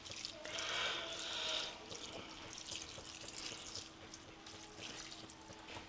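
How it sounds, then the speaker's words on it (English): Worcestershire sauce is poured generously into a bowl during meal prep, a faint, close trickle and splash that runs steadily for several seconds with no talking. "Now we're gonna take our Worcestershire sauce, or whatever you call it, and we're just gonna pour in a hefty amount."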